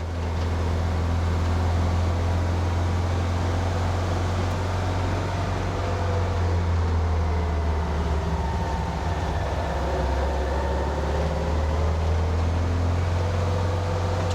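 An engine fitted with Weber 40 IDF dual carburettors runs on its idle circuit, a steady low drone with a strong constant hum and slight rise in pitch, continuous and close throughout.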